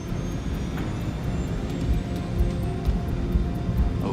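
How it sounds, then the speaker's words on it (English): A Boeing 747 jet accelerates down a rainy runway for takeoff, its engines a loud, steady roar with a rising whine and rhythmic thumps as the wheels pass over runway joints. "The 747 accelerates towards takeoff speed, 290 kilometers an hour."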